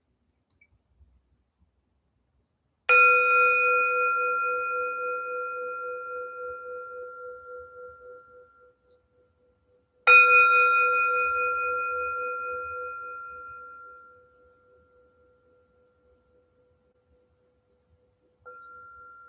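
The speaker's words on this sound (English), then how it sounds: "the ending the practice and hearing the bell and bowing" Two clear strikes of a meditation bell at the close of a practice session, each ringing bright and sustained and fading slowly over several seconds in near silence, with a third strike starting at the very end.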